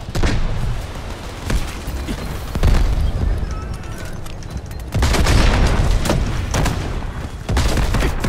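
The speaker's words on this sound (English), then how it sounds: "I think I've literally just blown myself up there" Explosions and gunfire in the shooter Delta Force, a run of heavy booms and sharp bursts with two big blasts near the middle and end, loud and close.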